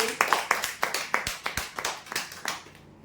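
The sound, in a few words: audience clapping loudly at a prize draw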